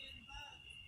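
A cricket chirps in a steady, high-pitched trill against a quiet nighttime background, brief and fairly faint.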